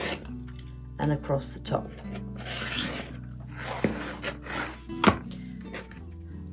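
Rotary cutter slicing quilt fabric along a ruler for a duck and ducklings quilt block, heard as short, close scraping and rubbing strokes, several in a row, under a voice speaking.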